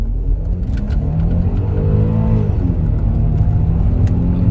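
A 2004 Audi Allroad with a twin-turbo V6 and automatic transmission revs up and holds, a loud close engine rumble with rising and falling pitch, alone without talk.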